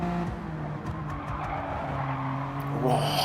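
A Toyota Corolla GR race car slides sideways at Road Atlanta in a sim racing game, its engine droning steadily with tyres scrubbing and squealing, close and continuous, while a commentator talks over it.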